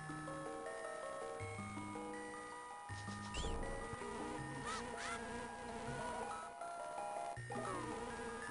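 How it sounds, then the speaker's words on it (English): A golden bee buzzes in The Legend of Zelda: A Link to the Past, a thin insect drone threaded through the steady chiptune game music for several seconds. "That is a special bee."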